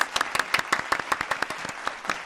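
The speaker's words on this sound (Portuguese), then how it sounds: "Aplausos." A small group of about fifty people claps as a requested sound effect on a show, producing sharp, distinct claps in an uneven rhythm, fairly quiet and close, with no talking.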